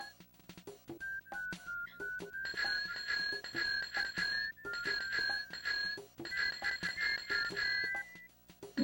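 Chiptune bicycle bell from the video game Earthbound, a bright repeating ring-ring pattern sounding in several bursts over game music and effects.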